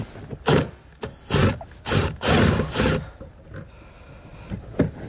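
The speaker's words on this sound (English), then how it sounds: "So we'll take our 16 millimeter socket." A ratchet with a 16 mm socket works loose the taillight fasteners on a 2014 Volkswagen Jetta, giving close, repeated bursts of clicking ratchet action separated by short pauses.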